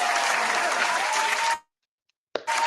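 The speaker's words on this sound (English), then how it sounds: "let me give y'all an applause," Applause from a live podcast studio audience of about a hundred people, loud and steady for about a second and a half before cutting to silence, then briefly resuming.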